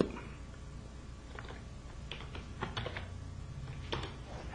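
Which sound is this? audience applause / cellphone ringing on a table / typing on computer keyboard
typing on computer keyboard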